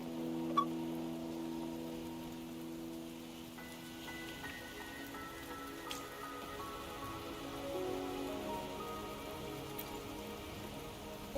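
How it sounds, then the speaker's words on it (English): Rain in the video game Wuthering Waves patters steadily under a soft sustained musical drone, with occasional faint clicks; no talking. "Are you trapped here by the rain?"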